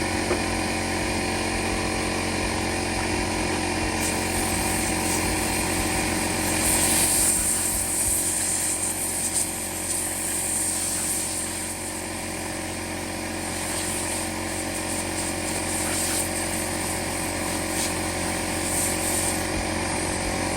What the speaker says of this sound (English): I got a fairly small air compressor. It'll be cutting on and off.